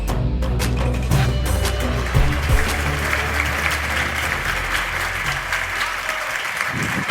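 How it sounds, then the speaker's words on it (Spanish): Warm audience applause greets the start of a talk on quantum mechanics, a steady, even wash of many hands clapping at moderate loudness, holding throughout with no speech over it. "Me han hecho palmas a mí, gracias."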